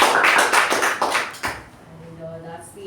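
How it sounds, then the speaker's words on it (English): A meeting audience at a Toastmasters club claps in a dense burst of applause for about a second and a half, then it quickly dies away into quiet room tone with a faint tone. "A huge round of applause to Toastmasters"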